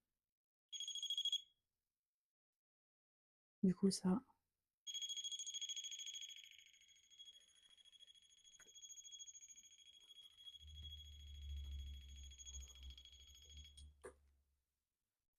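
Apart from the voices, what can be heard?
paranormal investigation device beeping after being switched on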